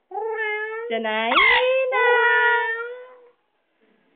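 A pet parrot gives a long, wavering, cat-like yowl that rises and strains in pitch before fading into silence, a voice imitating a cat.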